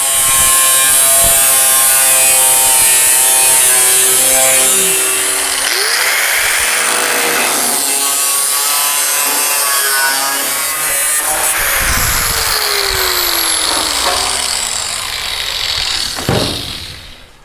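A loud, continuous power-cutting grind slices through the inner sheet metal of a 1960–66 Chevy truck bed side, with a harsh, close drone that shifts in pitch before ending abruptly.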